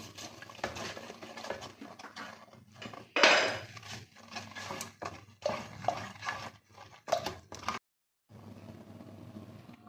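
A spoon stirs homemade tomato ketchup with red chilli, salt, sugar and vinegar in a pot, producing close, intermittent scraping and clinking bursts separated by short pauses, then a brief silence near the end.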